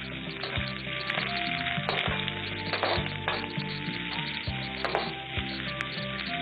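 Onions, with cinnamon and cloves, sauté in hot oil for a colourful fried rice, a continuous crackling sizzle under repeated spatula knocks and scrapes against the pan; no talking.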